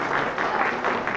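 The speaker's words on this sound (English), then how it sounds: "Let's give a round of applause for the Blair High School ROTC." A crowd applauds a high school ROTC color guard at a district community meeting, steady clapping filling the room throughout with no break.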